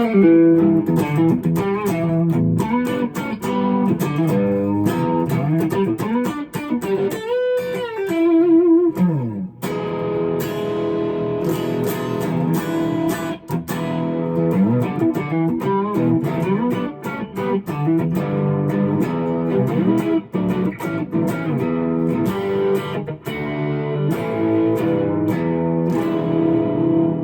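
Electric guitar, a 2013 Gibson Les Paul Traditional Pro on its neck pickup, through a slightly overdriven Plexi-style amp tone, playing bluesy riffs and chords with some bends, warm, loud and steady throughout.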